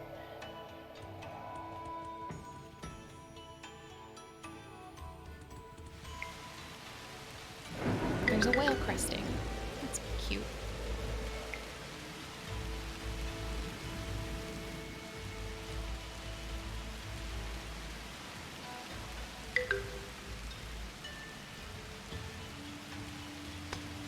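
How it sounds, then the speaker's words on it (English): Steady rain hisses throughout with a low rumble of thunder swelling midway, while a person talks over it; rain in the video game The Universim. "I might want to put down a couple rain clouds over it."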